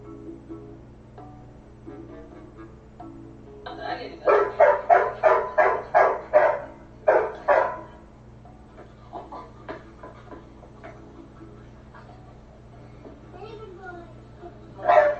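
A friendly dog barks in a rapid burst of about eight loud, close yaps, then gives a few scattered fainter barks and a final sharp one, over a steady low electrical hum.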